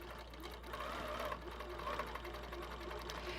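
An HQ longarm quilting machine driven by a Pro-Stitcher stitches an edge-to-edge pattern across a quilt, giving a steady, close mechanical whir and rapid needle chatter that runs without a break.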